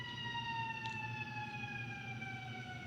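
An ambulance siren wails near an ambulance station, its tone sliding slowly downward as it moves off, steady and fairly loud over low traffic rumble.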